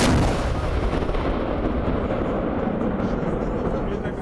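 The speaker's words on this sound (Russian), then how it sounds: "Запах пороха, грохот орудий и боевой настрой." Artillery guns firing during military command and mobilization exercises produce a loud, sustained rumbling roar that begins with a heavy blast and slowly fades.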